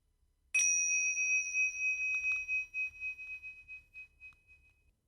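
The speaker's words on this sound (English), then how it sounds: "when you hear the bell, we can finish" A single bell struck to close a mindfulness exercise in a classroom, one clear bright strike that rings on and slowly fades over several seconds in otherwise quiet surroundings.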